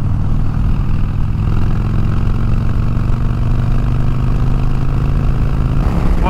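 A 2008 Harley-Davidson Sportster motorcycle rolls on the throttle in fifth gear, its engine a loud, steady, throbbing drone mixed with wind rush, with no talking.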